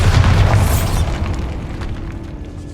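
A Bombarda explosion spell detonates in Hogwarts Legacy, a single loud booming blast with heavy low rumble that decays over a couple of seconds.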